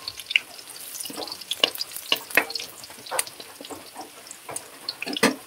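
Curry leaves crackle and sizzle in hot oil for fried rice, a busy, close spitting and popping with sharp bursts scattered throughout and no one talking.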